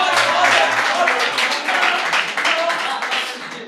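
An audience clapping at a Hindi poetry recital, a dense burst of applause that fades slightly toward the end, close and loud, with a voice briefly underneath at the start.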